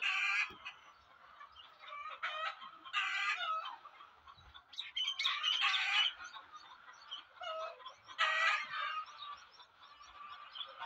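Layer hens in a floor shed on a Pakistani poultry farm cluck and squawk in a busy flock, their calls coming in overlapping bursts at moderate distance.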